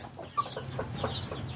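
A free-range hen with her chicks makes short, soft clucks and scattered higher peeps outdoors, fairly close, over a steady low background hum.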